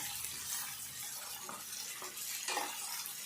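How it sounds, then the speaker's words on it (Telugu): Spring onion stalks fry and get stirred in a pan for an onion and tomato curry, giving a soft, continuous sizzle with occasional scraping stirs heard up close. "ఇట్లనైతే మంచిగా ఇట్లా ఫ్రై కావాలి"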